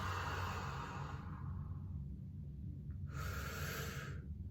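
A singer's deep breathing fills the rib cage: a long, airy breath fades out, a quiet pause follows, then a strong, close inhale rushes in for about a second.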